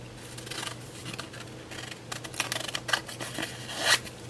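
Scissors snip through vinyl transfer tape in a series of close, crisp cuts that grow denser toward the end, with a final louder snip.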